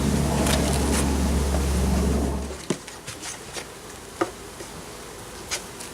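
Honey bees swarm around backyard hives in a dense, loud buzzing drone that cuts off after a couple of seconds, leaving quieter air with scattered sharp clicks and taps.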